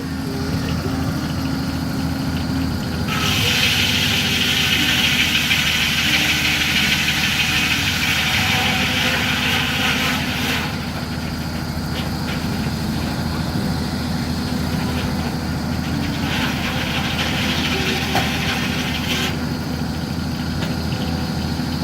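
A steam engine runs at a sawmill demonstration during a heritage gas and steam show, a loud, continuous low mechanical drone and rumble with shifting higher hiss that swells and drops in sections, with no talk.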